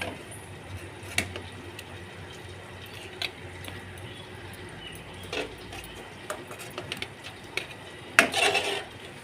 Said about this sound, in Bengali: আমি এগুলো পেঁয়াজগুলো একে একে সব তুলে নিচ্ছি